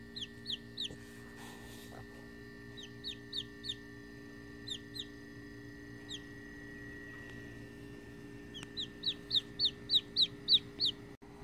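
A chicken clucks in short repeated bursts, scattered at first and then a quick run of louder clucks near the end, over a quiet steady background hum.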